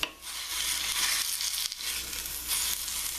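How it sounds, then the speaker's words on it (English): Broccoli and other vegetables sauté in a hot pan, giving a loud, steady sizzle and crackle that lasts throughout, close up with no talk. "So what we're doing, we're just going to saute this."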